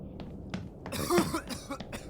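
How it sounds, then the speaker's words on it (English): A few harsh, wet coughs from one person coughing up blood, close by, with a brief throaty rasp building into a louder cough. "He's coughing up blood."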